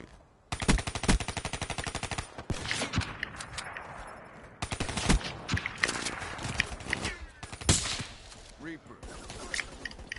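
Rapid automatic gunfire from a video game gun, loud, dense bursts of sharp cracks in long sustained volleys with short pauses between them, while a person talks over parts of it.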